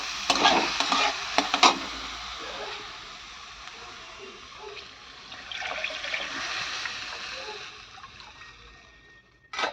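Masoor dal lentils fry and get stirred in a pan, giving a soft sizzle with scraping spoon strokes in bursts, near and moderate, fading quieter before a final scrape.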